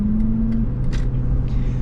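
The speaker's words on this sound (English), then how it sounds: "acceleration is really lackluster in this vehicle" 1997 Ford Expedition Eddie Bauer accelerating at night, a steady low engine drone and road rumble heard from inside the cabin, loud and continuous with a slight rise in tone.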